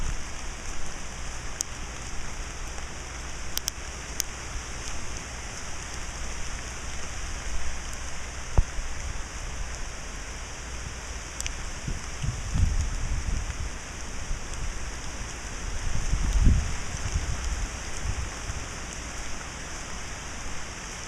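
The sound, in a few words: rain falling after Hurricane Dorian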